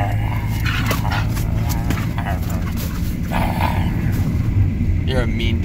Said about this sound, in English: You're a mean dog.